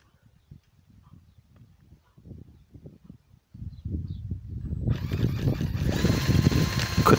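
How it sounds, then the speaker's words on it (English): A power drill used as a starter whirs in short bursts, then a model diesel engine catches and runs loudly and steadily with a buzzing, rattling roar. "There we are, the drill with a starter."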